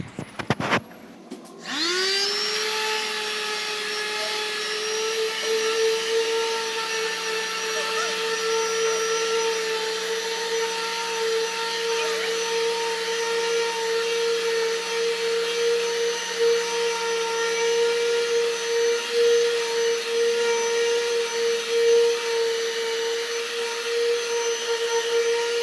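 A Lotus sheet sander starts up after a brief handling clatter, then runs in a steady, loud electric whine with a high motor tone that holds for the rest of the stretch, with no speech over it.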